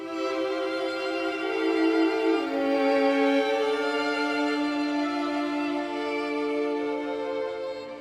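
Studio microphones capture a string section holding sustained, rich harmonic chords that shift pitch partway through, a steady, full sound with no talking.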